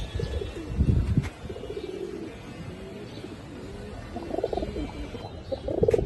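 Pair of Bagha silver pigeons cooing close by, soft low throaty coos repeating in short bursts with quiet gaps between them.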